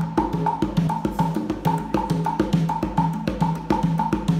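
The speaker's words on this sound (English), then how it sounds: "this is a 6-8 pattern for congas." A 6/8 groove on congas plays as a steady, lively pattern of resonant open tones and sharp slaps, repeating evenly in close, loud hand strokes with no voices.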